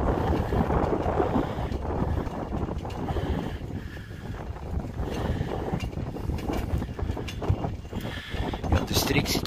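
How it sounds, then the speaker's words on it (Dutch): Strong wind roars and buffets the microphone throughout at an open spot near the Westerschelde in Graauw, Zeeland, Netherlands, a constant broadband rush with gusty swells and low rumble, loud and close. "Er is hier veel wind"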